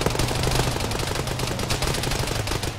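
Rapid, continuous automatic gunfire in a ShackTac military combat game, loud and close with an even rattling rhythm throughout.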